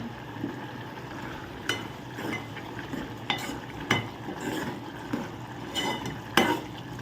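Ridge gourd curry with water added simmering in a pan and stirred with a utensil, a soft bubbling sizzle broken by sharp scraping clinks against the pan every second or so, close and fairly quiet.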